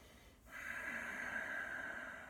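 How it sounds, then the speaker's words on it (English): A single slow Ujjayi yogic breath starts after a brief quiet pause and then streams out as a steady, soft throaty hiss that is close and sustained, with no talking. "if you could hear there, I've just brought in Ujjayi breath"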